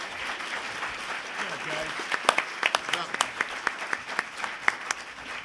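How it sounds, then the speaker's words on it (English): Audience applause for panelists at an expert panel symposium on education pathways, steady clapping from a crowd with sharper individual claps standing out, moderately loud and continuous throughout. "Let's give our panelists a round of applause."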